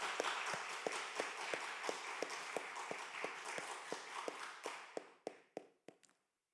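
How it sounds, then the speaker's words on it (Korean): A congregation at a Sunday afternoon church worship service claps in steady unison, heard quiet and distant over a wash of room noise, then the claps thin out into a few louder, separate ones before stopping. "1년 동안 수고하신 거 우리 박수 한번 해드리겠습니다."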